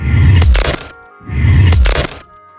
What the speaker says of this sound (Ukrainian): а так тріщать від морозу сухі гілки на деревах.